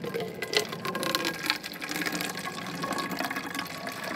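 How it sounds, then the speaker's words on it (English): Water pours steadily into a container ahead of fertilizer in a winter garden setting, a continuous close splashing and gurgling fill with no talking. "I like to put a little water in first, so when the fertilizer hits, it's all not sitting and stuck on the bottom."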